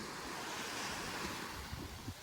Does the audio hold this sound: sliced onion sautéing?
no